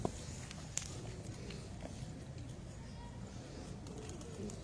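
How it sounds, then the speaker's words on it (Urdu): Rare pigeons coo softly on a rooftop in Khairpur, in the background of a quiet space, with faint shuffling and a couple of small taps nearby. "اور یہ کبوتر ہیں جی، دیکھیں نایاب کبوتر ماشاءاللہ"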